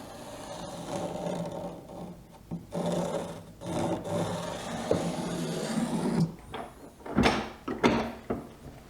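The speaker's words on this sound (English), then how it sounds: "I'm setting up some trammel points so that I can just scratch in the curve that I want to" Trammel points scratching a curve into a wooden board for a Stickley sideboard carcase, heard as intermittent close rasping and scraping strokes with a few sharper knocks and rubs.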